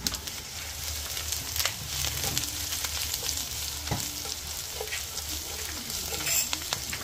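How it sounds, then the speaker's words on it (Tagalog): Garlic and onion sautéing in a hot pan for pata tim, a loud continuous close sizzle with occasional stirring scrapes throughout. "Gigisa muna tayo ng bawang sibuyas."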